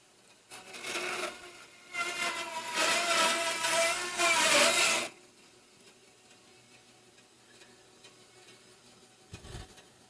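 Knife cutting fresh moose meat into steaks, a close rasping, sawing stroke sequence lasting about four seconds, then near quiet with a soft thump near the end.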